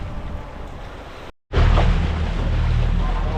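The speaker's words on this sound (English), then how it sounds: "We left Leverick Bay and we're doing right now a lazy downwind sail" A sailboat runs on a lazy downwind sail in light wind at about 3.5 knots, with steady wind rush and wave wash around the hull. A short dropout breaks the sound before it returns louder and fuller with buffeting wind.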